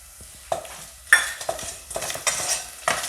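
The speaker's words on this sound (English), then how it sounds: "Giving it a good stir." A spoon scrapes and stirs golden-brown garlic and dry red chilies in a pan, giving a series of sharp, close clinks and scrapes over a soft, steady sizzle, with no voices.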